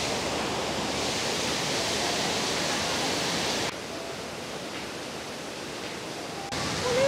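Heavy monsoon-swollen waterfall near Ranchi, at one of the Hudru, Jonha or Sita falls, roaring as a steady broadband rush of water close by, its level dipping slightly partway through, with no talk.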